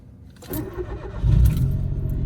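A Citroen C1 engine cranks briefly and then catches, settling into a steady idle rumble that stays fairly loud and close.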